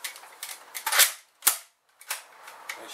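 A Nerf blaster with its air restrictors removed being dry fired, producing a few sharp, snappy plunger cracks with brief mechanical rattles between them, close and loud with no voices.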